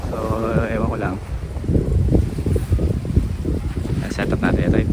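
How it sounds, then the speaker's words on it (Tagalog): Gusty wind at a seaside fishing and camping spot in Lobo, Batangas, buffeting the microphone in loud, uneven rushes, with a voice audible briefly at the start. "Medyo mahangin na yan guys, tsaka kulimlim."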